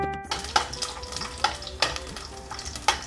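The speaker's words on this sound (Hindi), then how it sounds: "घी गर्म होने पर हम थोड़े से साबुत काजू भी डालेंगे और थोड़े से बादाम।" Whole cashews and almonds fry in hot ghee for a festival bhog, crackling steadily up close while a spoon scrapes and stirs the pan every second or so, with no talking.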